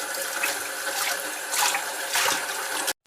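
Tap water runs steadily into a sink as a plate is washed, a close broadband splash that swells in a few surges and then cuts off abruptly near the end.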